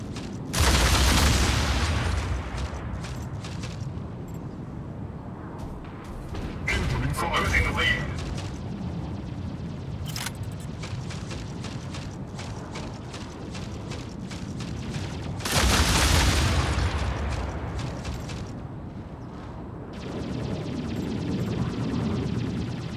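Gunfire and explosions rumble through a match of the Mech Arena video game. Heavy, dense bursts rise and fall across the clip, with booming volleys near the start and again midway.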